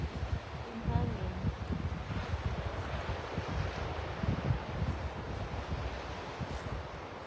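Steady wind buffeting a microphone, a broad rumbling roar with gusty low thumps throughout, fairly close and continuous.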